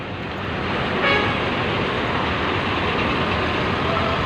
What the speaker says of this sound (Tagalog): Medyo traffic, medyo maraming tao.